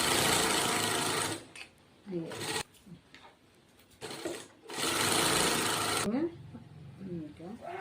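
A sewing machine stitching a garment runs in loud, even bursts of rapid whirring, stopping and starting several times, with someone talking in the pauses between runs.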